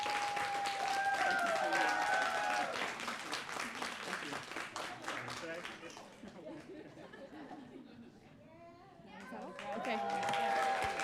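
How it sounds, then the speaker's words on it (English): Audience at a graduate and postdoc pitch competition claps and cheers, fading down midway and then swelling again, with chatter and voices mixed in. "Another round of applause."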